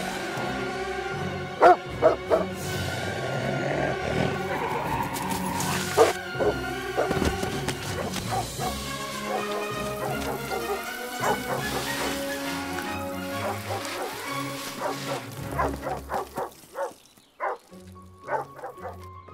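A dog barks and whimpers through a movie scene, with repeated barks and yips over background music, fading toward the end.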